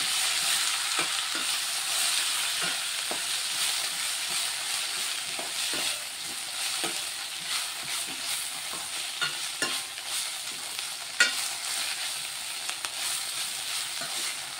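Mint leaves and green chillies frying in a pan for tomato chutney, a continuous soft sizzle with scattered scraping stir strokes, steady and close with no talk.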